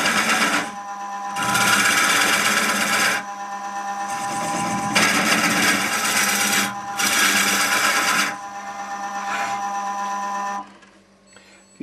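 Wood-turning cut hollowing out a wooden ball on a lathe, loud steady whirring bursts of tool against spinning wood in several long passes separated by brief pauses, with a faint hum underneath.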